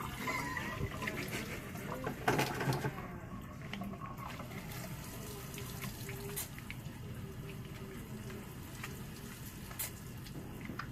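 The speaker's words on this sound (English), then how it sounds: "And then I'm going to wash my hands" Hands are washed under a running tap at a sink, a continuous close splashing and gurgling stream of water with small bursts of splatter throughout.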